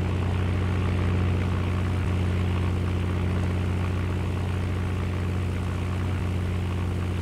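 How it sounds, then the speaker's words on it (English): A steady engine drone from a helicopter in a Roblox flight simulator game, loud and continuous with a low rotor hum throughout and no talking. "Grabbing my helicopter."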